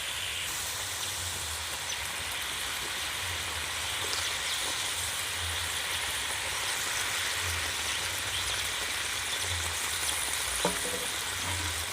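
Fried katla fish pieces go into a simmering spiced yogurt gravy that sizzles and bubbles steadily and close, with a faint clink partway through and no talking.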